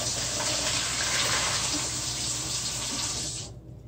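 Steaming hot water gushing from a tap into a trash can used as a bucket, a loud steady rushing pour that cuts off abruptly near the end.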